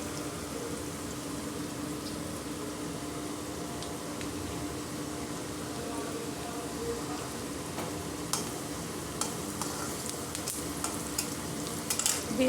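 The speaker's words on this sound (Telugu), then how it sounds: "కొద్దిగా గోల్డ్ కలర్ వచ్చాక ఫ్రై చేసుకుందామండి" Steady sizzling and frying in a pan while chana dal and moong dal turn golden for a ridge gourd dal curry, with continuous crackle and occasional stirring ticks toward the end; no talking.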